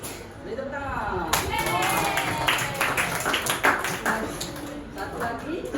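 A small group claps in a classroom during a teaching practice session. The clapping is moderate, uneven and fairly close, running for several seconds over a noisy room with overlapping voices.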